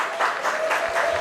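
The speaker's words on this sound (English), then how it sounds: "It's a round of applause here from the Labatt Park faithful" Steady applause from the home crowd at Labatt Park during a baseball game, a brief warm wash of clapping from the stands with a faint tone running underneath.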